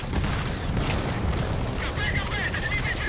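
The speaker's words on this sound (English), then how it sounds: "Obviously the other tank's firing at me as well." A tank shelling the player in Metal Gear Solid 5: The Phantom Pain, a dense rumbling explosive roar with booming low end throughout, someone talking briefly over it.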